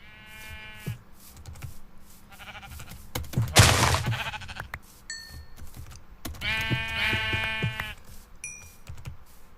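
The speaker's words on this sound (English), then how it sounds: "So now we're killing sheep again." Sheep in the video game Minecraft bleating in two separate wavering cries, with a burst of clicking or keyboard noise between them.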